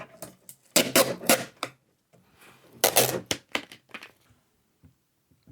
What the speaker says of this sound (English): I'm going to rip this sticker off because you're going to see it through the mesh in the case